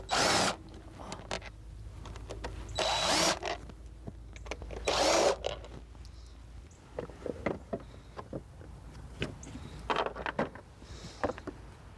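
A power tool removes three T27 Torx screws from the engine cover of a Jaguar XJ6, its whine coming in several short bursts with quieter handling noises between them.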